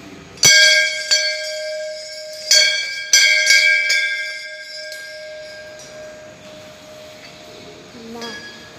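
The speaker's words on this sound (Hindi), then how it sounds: "चलो थोड़ी सी घंटी भी बजा देते हैं।" A metal temple bell at the Dada Bhude temple is struck several times, each clang ringing out loud and bright, then decaying into a long shimmering hum, close by with a few irregular strikes.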